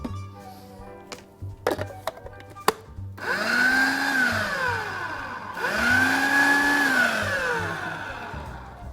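A food processor whirs through roasted red bell pepper and artichoke tapenade, motor whining up and down in two long runs after a few short clicks and knocks, close and steady with no speech.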